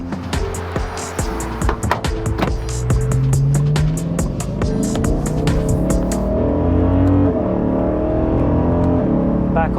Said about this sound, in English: I've actually really enjoyed this thing with the valves closed now that I can hear the induction kit